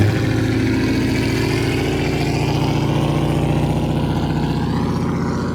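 A big block engine in a 1987 square body factory 1-ton V-Series truck idles steadily, a loud, even rumble that holds close and constant throughout, with no voices.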